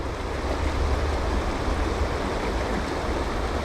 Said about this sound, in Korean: 물소리 너무 좋다